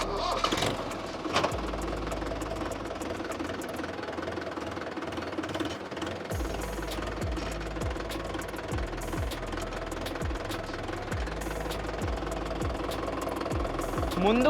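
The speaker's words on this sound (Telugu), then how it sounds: "సో రివర్స్ గేర్ వేస్తున్నాం ఇప్పుడు స్టార్ట్ చేసి." A tractor engine starts and runs in reverse gear, pulling against wrapping tape in a power test. A sustained, loud, rough mid-pitched drone with knocking pulses fills the whole stretch, with a faint voice in places.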